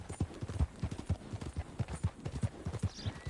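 Horse hooves clip-clop in steady, even rhythm on a Red Dead Redemption 2 game soundtrack, a close, continuous trotting beat running throughout with no voices.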